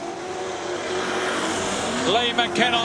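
Dirt track race cars at the AMCA Nationals in Gympie drone through a hairpin corner, engines revving and rising as they pass, while a commentator talks over the steady motor noise.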